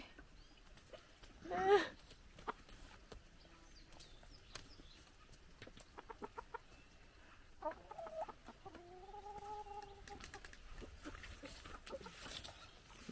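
Chickens on a rural homestead in Norway cluck and call quietly, with a sharp squawk near the start and a run of drawn-out clucks in the middle over faint outdoor background noise.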